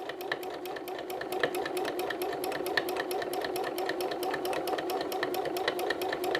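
A sewing machine runs continuously while quilting loopy loops, its needle hammering in a rapid, even rhythm over a steady motor whir, close and alone.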